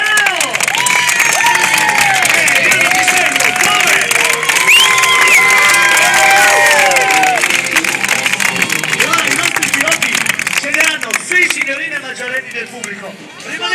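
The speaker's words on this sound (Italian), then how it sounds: "E tornano al centro per ricevere i loro meritati applausi." Loud crowd at an amusement park stunt show cheers, whoops and claps for stunt riders after a slalom, children's shouts rising above the dense applause, which thins toward the end.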